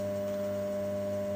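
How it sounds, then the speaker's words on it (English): Steady electrical hum from a step-down transformer running off a generator power supply, a constant low drone with fixed tonal bands, close and unbroken for the short stretch. "If you can hear that hum in the background, that's the a step down transformer I've got here"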